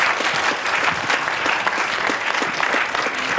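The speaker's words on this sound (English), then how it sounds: "let's give a round of applause to Professor George Halpern" A conference audience gives a steady, fairly loud round of applause for Professor Georges Halpern, dense continuous clapping that holds evenly throughout.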